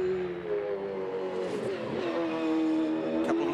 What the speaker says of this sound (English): A couple of little stabs of the throttle there at the cutting just to get the nose online before he opened up the throttle percentage again